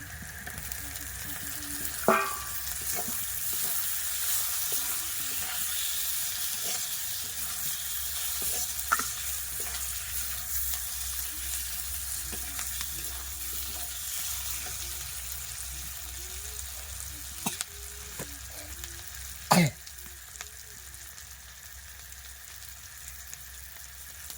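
Chopped tomatoes added to a spice mix frying in a pan give a steady close sizzle with occasional clinks and stirring knocks; no talking.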